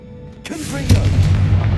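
A Confringo fire spell explodes in the Hogwarts Legacy video game, a sudden loud blast that swells into a rumbling burst with sharp crackling impacts, booming close and heavy throughout.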